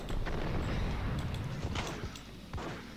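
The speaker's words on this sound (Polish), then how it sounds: "I strzał." A gunshot in the Max Payne video game rings out amid loud, dense game noise, with sharp blasts cutting through a constant heavy rumble. No one speaks.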